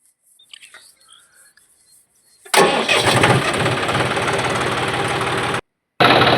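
John Deere tractor on a farm field fires up after a quiet stretch with faint birds, its engine catching suddenly and settling into a loud, steady rumbling idle up close, briefly cutting out before resuming.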